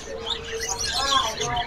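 Cucak pantai birds of a local Sorong variety chirp in a bird shop, with dense overlapping tweets and calls throughout, fairly close and steady.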